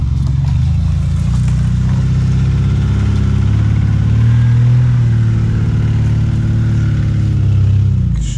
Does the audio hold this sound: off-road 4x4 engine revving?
yes